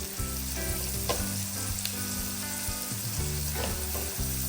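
Onion stir-fries in a hot pan for pork ribs in Sprite, a loud continuous sizzle up close with the spatula scraping and tapping against the pan as it is turned, no voices.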